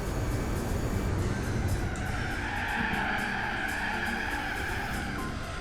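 A Lancia drifting in Gran Turismo 4, its tires skidding in a long, steady squeal over engine drone that stays loud and continuous the whole time, with no talking.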